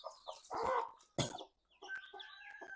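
A hen gives a few quiet, close clucks separated by short pauses, while chicks peep thinly in the background.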